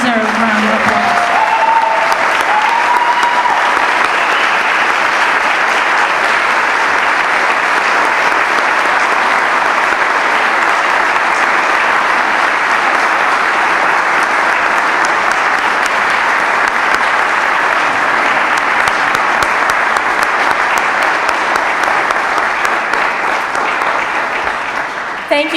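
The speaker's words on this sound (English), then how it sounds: "Please stand and join me in giving them a well-deserved round of applause." An audience at a Senate district Women of Distinction award ceremony claps in sustained, dense applause that stays loud and even for about twenty-five seconds before it stops suddenly. A brief voice is heard near the start.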